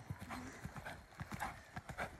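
Rhythmic clip-clop of a Quarter Horse's hooves at a steady collected gait, fairly close, with soft thuds repeating evenly throughout.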